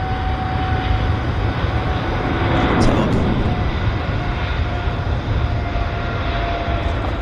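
An airliner takes off at Vancouver Airport with a broad, steady jet roar that swells slightly midway, heard from a distance under a constant wash of noise.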